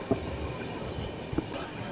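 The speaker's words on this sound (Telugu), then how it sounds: "విజయపురం నుంచి హుబ్లీ వెళ్ళే మెము" A MEMU passenger train on the line from Vijayapura toward Hubli near Gadag junction, heard as a steady low rail rumble with a couple of sharper wheel knocks on the joints, moderately near and without talk.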